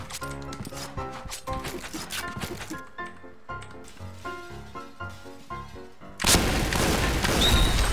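Gunfire in a Point Blank shootout, sharp shots popping over a rhythmic, music-like backdrop, then a loud sustained burst of noisy blasts near the end.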